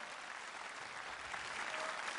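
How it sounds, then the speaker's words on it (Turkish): Audience applause at a live Turkish classical music concert with a municipal city orchestra, a steady dense clapping that fills the hall for a couple of seconds at moderate distance. "Ama bir alkışı istiyorum."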